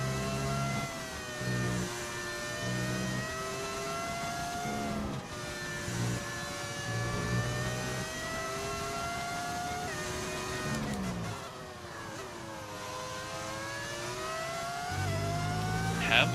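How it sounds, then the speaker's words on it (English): Racing car engines in the F1 25 game whine through rising and falling gear shifts, a continuous high-pitched howl with repeated upshifts and a drop before revving up again. "Weird to hear the old engines on modern cars."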